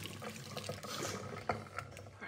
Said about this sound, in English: The best place for that coffee is down the sink.